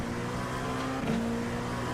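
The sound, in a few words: GT3 race car passing in sim racing video game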